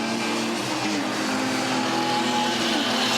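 Several BMW E30 318 and 320 touring cars racing in a Group 2 race of a New Zealand BMW series, engines droning steadily at high revs with overlapping tones, continuous and fairly loud without breaks.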